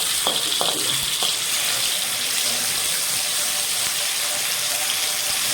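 Garlic and ginger paste frying in a pan, a steady close hiss of sizzling oil that runs evenly throughout with a few faint clinks near the start, and no talking.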